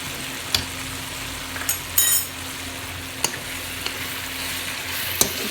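Masala with a tablespoon of coriander powder being stirred and fried for bhindi masala, giving a steady sizzle broken by sharp spoon clinks and scrapes against the pan at irregular intervals.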